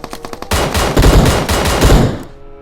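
Loud, rapid bursts of automatic gunfire from the mobile battle-royale game PUBG Mobile fill about two seconds after a few short, sharp shots, then cut off abruptly.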